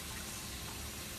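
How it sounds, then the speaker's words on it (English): Water being poured into a simmering flour mix for Cajun chicken fricassee, a steady close splashing and hissing pour throughout, no talking. "I'm gonna add a little bit more water"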